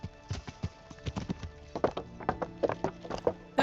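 Horse hooves in a Kingdom Come Deliverance game clip-clop in an uneven trotting rhythm on a hard surface, close and moderately loud, picking up pace toward the end.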